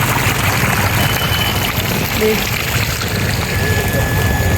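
Water flows steadily from a decorative cast structure at a Christmas display in Koratty, making a close, continuous rushing wash with faint voices in the background.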